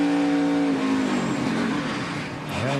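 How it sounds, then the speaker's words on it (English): A NASCAR Sprint Cup race car engine, heard onboard, roars loudly and continuously, its pitch dropping then climbing again as it revs back up. "Hear the engine rev up."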